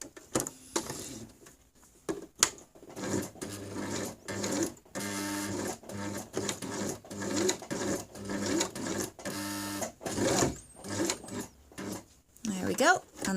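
Sewing machine stitches a buttonhole in short stop-start bursts, going back and forth in rapid mechanical runs. Quiet speech comes between the runs.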